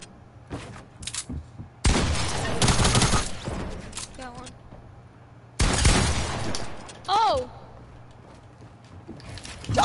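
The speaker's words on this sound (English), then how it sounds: "Shots fired. Shots fired." Bursts of rapid gunfire from a Fortnite match, loud and close, arriving in two long volleys separated by quieter gaps, with players talking between the shots.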